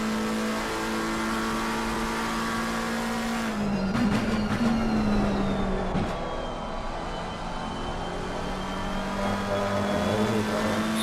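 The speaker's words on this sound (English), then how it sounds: "Sounds like the engine is bogging, but it really isn't." Race car engine in Assetto Corsa Competizione during endurance qualifying at Silverstone, held in low revs: a steady, buzzing harmonic drone with a brief shift in pitch partway through. It plays loud and close throughout, with no talking.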